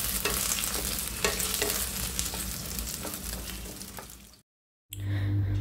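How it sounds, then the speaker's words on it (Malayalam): Indian gooseberries sauté in hot oil for a quick gooseberry pickle, a dense, loud, continuous sizzle with stirring scrapes that cuts out abruptly into a short silence before the frying noise resumes. "എണ്ണ ഒന്ന് ചൂടായി വരുമ്പോൾ അതിലേക്ക് ഞാൻ നെല്ലിക്ക ഇട്ടിട്ട് ഒന്ന് വഴറ്റുകയാണ്"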